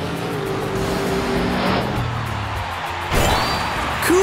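Cartoon blue and orange monster trucks drive and collide in a children's color-mixing animation, with a steady engine-like whoosh, a bright sweeping effect and a crash-like burst near the end; no talking.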